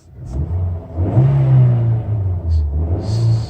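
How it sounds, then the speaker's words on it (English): A parked car's engine revs in short bursts during routine upkeep, a mid-pitched rumble swelling and easing several times, loud and close with no talk. "if you're going to start your car in every 10 to 15 days, just rev it a little bit"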